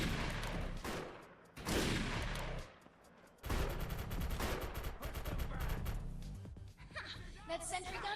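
Bursts of rapid gunfire aimed at a sentry gun in the shooter video game Defiance, loud, clustered volleys separated by short lulls, with a voice briefly audible among the shots.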